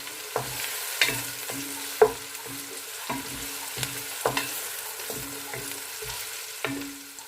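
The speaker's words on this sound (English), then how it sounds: "we need to cook the onions till it becomes a golden brown" Onions for biryani fry in a pan with a gentle sizzle under repeated sharp scraping and tapping of a spoon stirring, moderately quiet and close.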